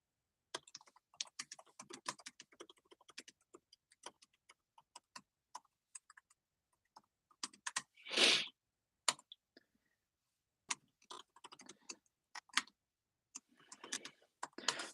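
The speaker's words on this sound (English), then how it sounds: "I'm actually going to write this down in the comment section." Fingers type on a computer keyboard in scattered, irregular bursts of crisp clicks, close and fairly quiet, with pauses between runs and one brief louder rustle midway.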